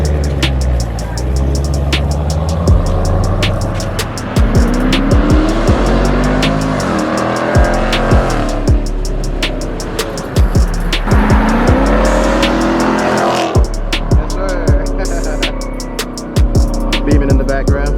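A 2019 Dodge Charger Scat Pack with its muffler and resonator deleted accelerates hard on the road: loud, raspy exhaust rising through repeated rev sweeps, with sharp crackles and pops scattered throughout.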